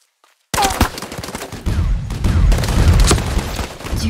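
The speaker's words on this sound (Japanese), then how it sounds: "銃声が聞こえた。" After a brief silence, rapid bursts of gunfire in the game Super Mecha Champions erupt and keep going, loud and dense, with heavy low thumps under the crackling shots.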